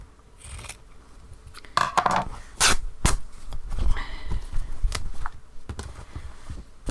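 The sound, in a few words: scissors cutting a stitchery cover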